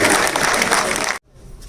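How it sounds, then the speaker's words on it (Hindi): Audience applause at an all-India mushaira poetry gathering in a convention center, a dense, loud burst of clapping that fills the hall and then cuts off abruptly, leaving faint room noise. "जोरदार तालियों से इस्तकबाल करें मौलाना खुदा"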